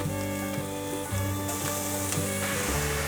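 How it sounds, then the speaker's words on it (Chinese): Enoki mushrooms tossed with shiitake and celery in a hot wok, a steady loud sizzle with soft scraping of the spatula throughout, no voices. "快速的翻炒"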